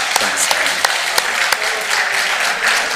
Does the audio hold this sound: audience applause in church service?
yes